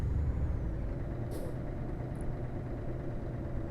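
A truck's air brakes in Euro Truck Simulator 2 give one brief, sharp pneumatic hiss over a steady low engine drone inside the cab, followed by a second fainter puff of air.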